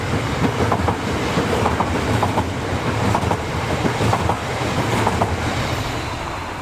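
HLB regional passenger train passing through a station toward Rüsselsheim, a steady loud rumble of wheels with rhythmic clickety-clack over rail joints throughout, close by.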